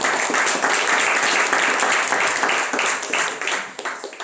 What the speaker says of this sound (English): So, big round of applause for Ramlal sir as the general evaluator.